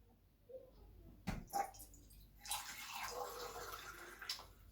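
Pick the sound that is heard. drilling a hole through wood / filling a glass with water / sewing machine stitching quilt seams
filling a glass with water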